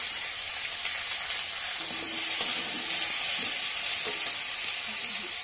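Potatoes hit a hot pan already holding tomatoes and start frying, giving a steady, close sizzle and hiss throughout with faint stirring scrapes, no voices.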